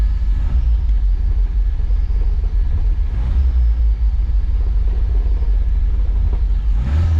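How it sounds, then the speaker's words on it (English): A freshly built Toyota 7K turbo engine running on its first start, idling with a steady, loud low rumble that holds throughout, with no talk over it. "Let her warm up, see if she idles."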